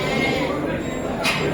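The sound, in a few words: sheep bleating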